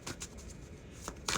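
Tarot cards being shuffled by hand, a few quiet riffling bursts at close range with soft pauses between them, no talking.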